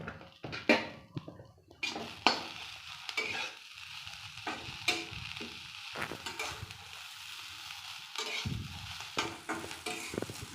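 Dhekia fern greens fry in a kadai with a close, crackling sizzle, broken by repeated scraping and stirring strokes and occasional clanks of the utensil against the pan.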